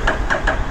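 An engine cranking and sputtering in repeated bursts, a Honda Rebel 1100 motorcycle struggling to catch and turn over after sitting for a couple of weeks, loud and close.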